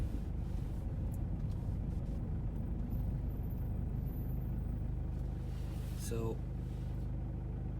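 A car drives slowly up toward the palace in Edinburgh, a steady low engine and road rumble throughout, with a voice briefly heard over it.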